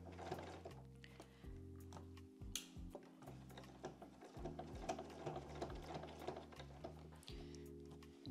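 A sewing machine stitches around the crown of a bucket hat, its motor whirring in several steady runs broken by short pauses, with rhythmic mechanical ticking, fairly quiet and close.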